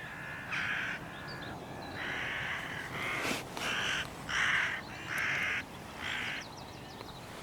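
Rooks cawing in a commotion, a run of harsh caws in short repeated bursts, several birds calling over one another at moderate distance with no talk.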